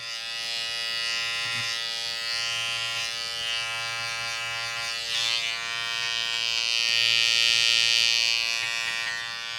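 Electric hair clippers run steadily, cutting short hair over a comb during a men's haircut, a close, continuous buzz with a constant hum that swells slightly louder toward the end.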